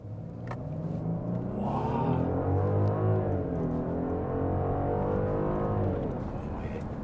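Cabin view of a facelifted Genesis G80 3.5 turbo with 380 horsepower accelerating, its smooth engine note climbing and sustaining in pitch as a low, steady drone fills the car.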